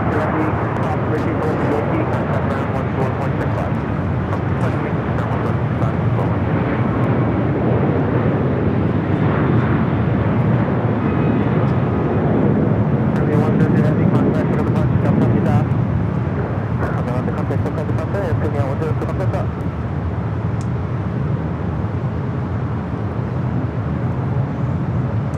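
A Japan Airlines Boeing 787 Dreamliner on short final at Los Angeles International Airport gives a steady, broadband engine roar that holds evenly throughout, with a commentator's voice talking over it.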